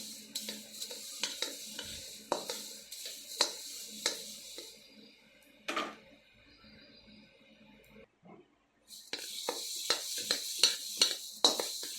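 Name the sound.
roasting ingredients in a pan for curry leaves powder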